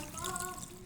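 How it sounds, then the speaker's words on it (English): Tap water splashes and trickles over Chinese cabbage being rinsed while preparing seblak, a steady close wash lasting under a second. "now let's wash it with water"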